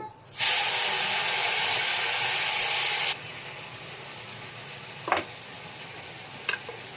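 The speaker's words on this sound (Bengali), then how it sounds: "শুধু জিরা পাতা ফোড়ন দেবো আর কচুর শাকটা দিয়ে দেবো" Cumin seeds and taro greens hit hot oil with a sudden loud hiss that sizzles steadily for about three seconds, then drops to a quieter crackle with a couple of sharp pops.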